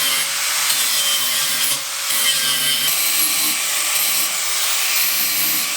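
A power grinder works down metal while a diesel auxiliary tank is fitted into a skoolie bus, a loud continuous hissing grind with one brief dip partway through.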